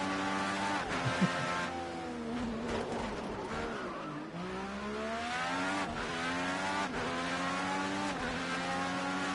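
A race car engine in a racing game at Road America, with a high-revving whine that climbs and drops through repeated gear shifts and braking, continuous and close throughout, with occasional tire squeal.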